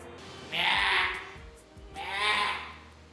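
A voice imitates a buffalo's call with two drawn-out, nasal bellowing sounds, each lasting about half a second, up close.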